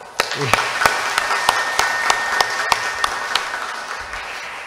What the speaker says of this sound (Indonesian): Dan sekali lagi kita berikan aplaus untuk adik kita.